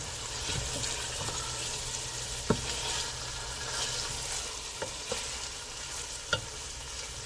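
Linguica sausage sautéing in a pan, a steady close sizzle with occasional scrapes and clicks of stirring, continuous and moderately loud with no talking.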